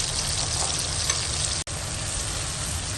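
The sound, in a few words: lentils roasting with turmeric, salt and coriander spices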